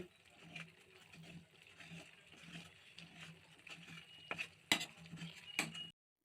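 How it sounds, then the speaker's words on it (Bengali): A round ladle stirring mustard greens with hot water in a pot, soft rhythmic scraping and sloshing strokes with a few sharper metallic clinks near the end, fairly quiet and close. "এবার এই গোল হাতা দিয়ে ভালো করে ঘেঁটে দিচ্ছি।"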